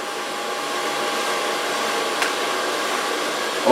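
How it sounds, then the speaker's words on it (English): A hair dryer blows steadily at close range while drying an ultra-short platinum blonde pixie cut with a small brush, a constant airy whir with no talking. "Then I can start blow drying."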